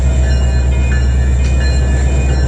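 A westbound freight train of covered hoppers rolls past at Fremont, Nebraska, a loud, steady, close rumble of wagons and wheels with no break.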